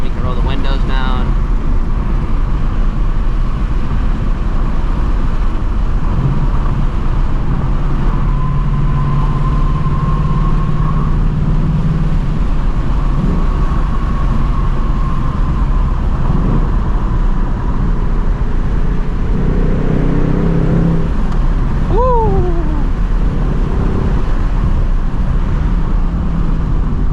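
A 2024 Mustang GT with its exhaust open rumbles through city streets at night, a steady low engine drone with gentle swells in tone as the car cruises.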